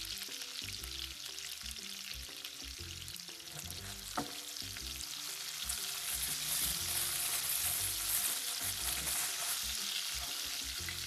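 Onions fry in oil in a pan for chilli chicken, a steady close sizzle with a short metallic scrape near the middle, growing slightly louder toward the end.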